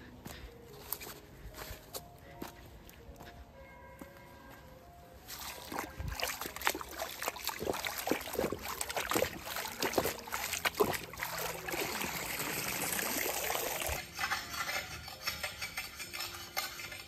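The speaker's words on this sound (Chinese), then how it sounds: "把拖把洗一下" A mop is rinsed under running water in a rural house being cleaned up, with splashing and sloshing that grows louder in the middle of the clip after a quieter start.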